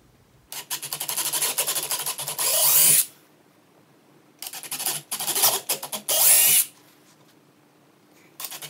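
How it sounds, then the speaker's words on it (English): A power drill bores into wood in two loud bursts of grinding, rasping drilling, each ending in a brief higher whine, separated by quiet pauses while fitting a Fender-style guitar neck. "the drill is gonna follow the path of least resistance"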